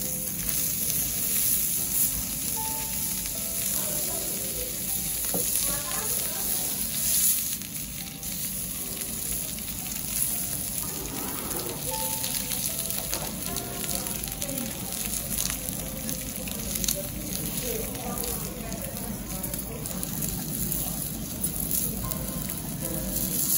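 Premium Senya beef short rib sizzles steadily on a yakiniku grill in a Japanese barbecue restaurant, with a continuous crackling hiss running throughout.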